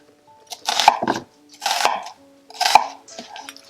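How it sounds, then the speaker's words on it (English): A knife cutting a large sweet onion into squares on a board, three distinct bursts of crisp slicing strokes, each with a sharp thunk, spaced about a second apart and heard up close. "You can slice the onion in squares like this."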